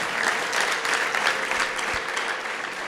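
A church congregation claps together in continuous, even applause, a dense patter of many hands close by with no pause.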